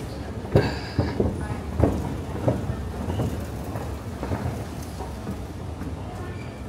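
Steady rain patters with rumbles of thunder rolling through, a few sharper cracks early on, under a dense wash of noise.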